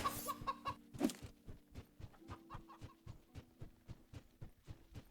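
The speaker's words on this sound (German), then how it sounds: "Warum gibt es hier eine Hühnerfarm?" Chickens on a poultry farm in the game The Tale of Bistun, clucking in a steady repeating rhythm with a sharp louder squawk near the start, moderately close and with no talk.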